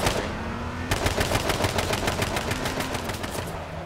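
An AK rifle fires in the video game H1Z1 King of the Kill as a loud, rapid automatic burst of close shots that goes on steadily for about three seconds after a short pause, with no talking.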